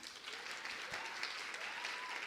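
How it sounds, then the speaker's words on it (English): Faint, fairly distant applause from an audience welcoming a university Vice Chancellor at a dialogue event, a soft continuous patter of many hands with a brief voice or two beneath. "Another round of applause for our Vice Chancellor."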